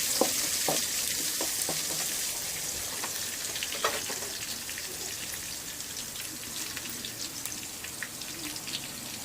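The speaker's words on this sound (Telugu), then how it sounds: "ఇలా ఫ్రై చేసేసుకోవాలి." Chopped medium onion fries in oil in a pan for an Andhra-style okra stir-fry, giving a steady close sizzle with crackling pops and occasional stirring clatter, no voices.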